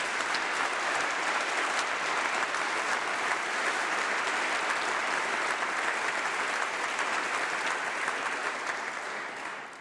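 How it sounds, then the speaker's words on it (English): Sustained applause from a large audience at a university winter graduation ceremony, steady dense clapping that fills the whole stretch and tapers slightly at the very end. "A huge round of applause for our international students."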